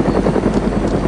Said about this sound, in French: les zombies n'aggro pas cet hélicoptère là. Pourtant, il fait un max de bruit et tout